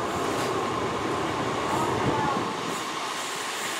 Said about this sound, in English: coming in behind me, we've got a Class 158, which is from Cardiff Central, via Bristol Temple Meads to Taunton.